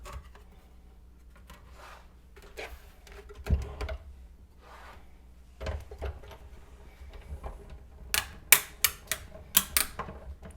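Embossing folder passing through a die-cut machine gives a series of sharp, close cracking snaps, about five loud clicks in quick succession near the end after softer handling clatter.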